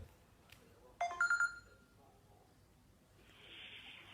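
A telephone gives a short ringing trill at close range, heard once amid quiet room noise with faint background voices.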